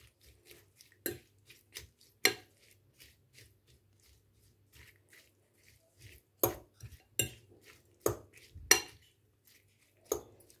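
A potato dish being flipped in a pan: intermittent close metallic clinks and scrapes of a utensil against the pan, in short bursts separated by quiet gaps.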